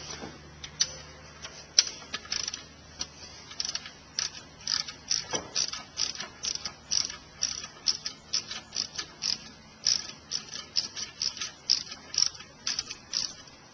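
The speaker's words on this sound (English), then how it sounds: "Remove the three 12mm bolts that hold the alternator on." Ratchet wrench loosening the 12mm alternator bolts on a 2004 Honda Accord EX, a steady series of close, sharp clicking ratchet strokes in quick rhythmic bursts, with no talking.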